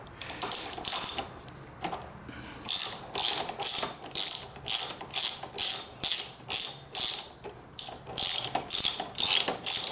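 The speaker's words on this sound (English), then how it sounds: "I'm going to take off the caliper mounting bolt right here, and that is a 14mm socket" A ratchet turning a 14mm socket works loose the brake caliper mounting bolt on a Honda VTX 1300R motorcycle: a steady run of crisp, close clicking strokes, about two per second, following a few scattered clicks at the start.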